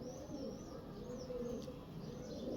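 An antique teddy pigeon coos in a low, continuous, rolling tone close by, with faint chirps above it and no talking.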